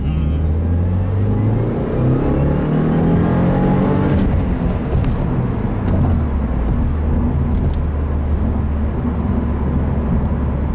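A 2015 Subaru WRX with a Stage 1 A map pulls hard in second gear. The loud engine note climbs steadily with rising harmonics over a rumbling road roar, continuous throughout with no talking.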